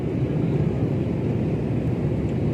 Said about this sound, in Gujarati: પ્લેન ઉપર ચડ્યું